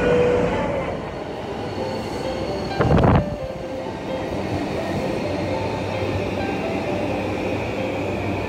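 Trains rumble at Takanawa Gateway Station in Tokyo, with a steady roar of rail traffic along the platform and one short metallic squeal or clank rising out of the din midway. No one speaks.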